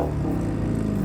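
A Dodge Demon V8 idles and revs in a brief sound check, a deep, throbbing rumble with low pulsing firing beats, close and loud, with no voices.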